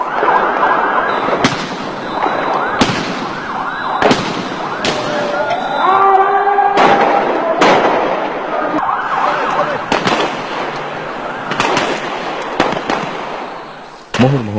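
Repeated sharp bangs of gunfire and sound grenades at a night-time street protest, loud and irregular over a wailing siren and crowd noise, with voices shouting throughout.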